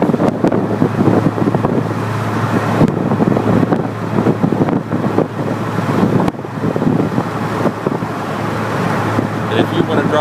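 Inside a 1998 Chevy Corvette Pace Car cruising at 75 mph in fifth gear, a constant loud roar of road and wind noise over a low engine drone, with no breaks.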